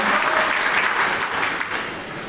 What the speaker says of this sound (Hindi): बस जोरदार तालियों के साथ इनका अभिनंदन करें आप।